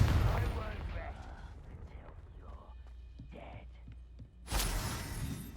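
A Hogwarts Legacy Confringo fire spell goes off with an explosive blast at the start and fades into faint crackling debris. A second loud, sharp burst hits near the end, with quiet game sounds between.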